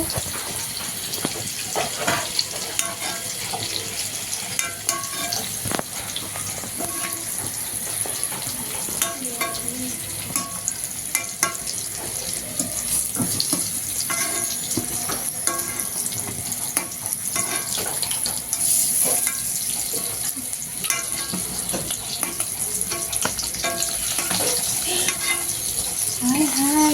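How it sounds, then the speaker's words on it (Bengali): Eggs sizzle loudly in a pan while being stirred, giving a steady crackling fry with scraping and clinking of the utensil, close up and continuous, with a catering-size batch cooking for sixty to seventy people. "এই ডিমগুলো ভাজা হয়েছে আর কিছু ডিম এখন দিয়ে দেবো"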